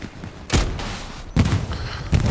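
Rocket impacts against a Tiger tank in Hell Let Loose: three loud, sharp blasts spaced roughly a second apart, each followed by a short rumbling tail.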